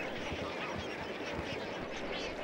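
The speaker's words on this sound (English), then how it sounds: "By some estimates, more than a million flamingos flock to Bogoria." A huge flock of flamingos at Lake Bogoria calls continuously, a dense, loud wash of honking, gabbling cries with no pause.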